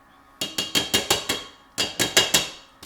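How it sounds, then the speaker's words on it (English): A metal whisk is knocked sharply against a mixing bowl to shake off banana bread batter, giving two quick runs of ringing raps, six and then five, close and clear with no talking. "Give it a bash, make sure you've got all of your mixture off it."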